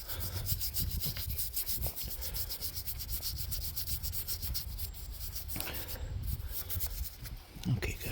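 A brush scrubs black dirt off a 17th-century gravestone, giving a continuous rough, raspy rubbing close up, with faint speech briefly underneath.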